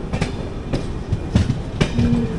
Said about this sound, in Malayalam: മുകളിൽ കൂടെ മെട്രോ ട്രെയിൻ പോകുന്ന കാണാം